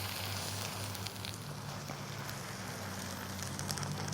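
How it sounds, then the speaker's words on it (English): Shrimp sizzling on a buttered flat top griddle, a steady dense crackle and hiss that runs continuously throughout with no talk over it. "you hear that sizzle?"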